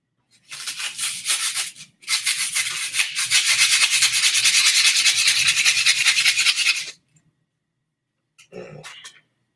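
Wood being sanded by hand with sandpaper makes loud, close rasping strokes in two long continuous bursts, then a brief final scrape after a pause.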